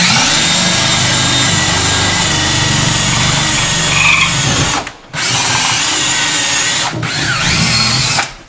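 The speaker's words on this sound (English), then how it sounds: "when you're drilling these holes, be careful" A loud power drill grinds steadily up close, boring holes through a wall, pausing briefly twice before starting again.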